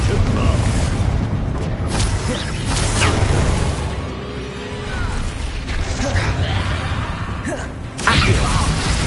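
Spell explosions and blasts from combat in the video game Hogwarts Legacy, with a booming Bombarda burst among repeated heavy thuds, whooshes and mechanical rumbles, loud and dense throughout, with a fresh impact near the end.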